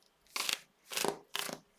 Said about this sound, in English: I'm going to keep shuffling, actually.